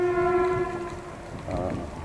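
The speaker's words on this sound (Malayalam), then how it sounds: "കുറച്ച് ട്രെയിൻ പോകുന്നുണ്ട്." A train horn sounds a sustained tonal blast in Ernakulam, then fades into rumbling rail noise as the train moves past nearby.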